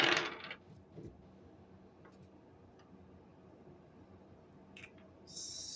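Dice rolled for a tarot-style reading give a burst of bright rattling clatter at the start, then scattered small ticks and knocks in a quiet room, ending with another brief rattle.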